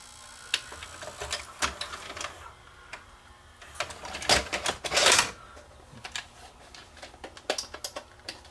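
A broken Hitachi DV-PF74 VCR/DVD combo with a stuck tape spool clicks and clatters, irregular mechanical ticks and rattles close up, with a brief louder grinding burst midway.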